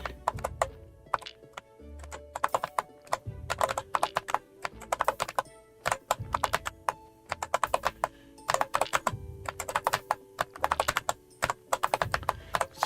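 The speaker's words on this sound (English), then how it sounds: "Sounds like my fingers are tap dancing on the keyboard." Fingers tapping fast on a computer keyboard, close and clicky, in dense rhythmic bursts of keystrokes with brief pauses, while soft game music plays underneath.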